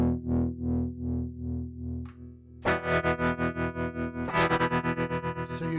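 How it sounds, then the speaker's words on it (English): Dragonfly effect app on iOS with its wild button turned up, adding distortion to a pulsing, fluttering synth tone that jumps in pitch and thickens into a harsher, buzzier texture partway through, heard alone. "So you're getting like this distortion in there as well, which is really cool"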